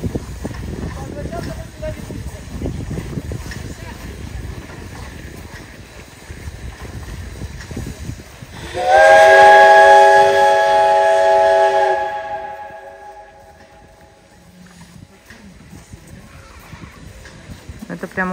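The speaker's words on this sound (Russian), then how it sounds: "Смотрите, идет разворот поезда." A steam train turning around at Ruskeala gives a loud, sustained whistle of about three seconds, with steady harmonic tones. Rumble and voices come before it and quieter ambience follows.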